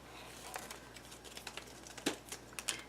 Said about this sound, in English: That's the noise you heard me trying to flick off the red part of the tape.